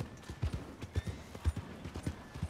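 A horse is ridden in the video game Red Dead Redemption 2, its hooves giving a quick, rhythmic clip-clop of close, solid thuds that carries on steadily throughout.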